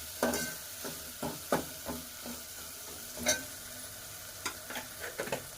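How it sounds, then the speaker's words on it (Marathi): Chopped tomatoes salted in a hot pan for a Maharashtrian bazaar amti curry sizzle softly, while a spoon scrapes and stirs in repeated, irregular strokes close up. "तर आता आहे ना हे सगळं टमाटे वगैरे चांगले शिजण्यासाठी मी मीठ टाकून घेते"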